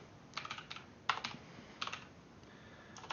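Bursts of computer keyboard typing, quick clusters of keystrokes with short pauses between them, close and fairly quiet with no talk.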